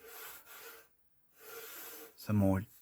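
The rear cover of a Compaq Portable III computer being pulled off, with bursts of close scraping and rubbing of plastic separated by brief silence, then ending in a louder, harsh grinding creak.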